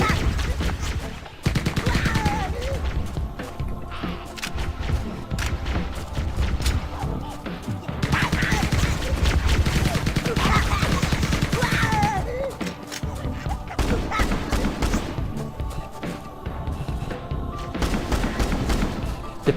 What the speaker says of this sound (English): The pistol shoots a lot faster in this.